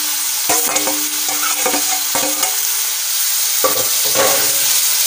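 Crushed ginger, garlic and green chillies sauté in hot oil with a steady loud sizzle, broken by repeated clinks and scrapes of a spoon stirring against the pan, close up with no talking.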